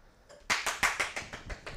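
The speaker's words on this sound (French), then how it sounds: "C'est le moment d'applaudir, Fanny." A few pairs of hands clap briskly at a pastry lesson, a short run of sharp, close claps at an uneven pace that start abruptly and ease off slightly.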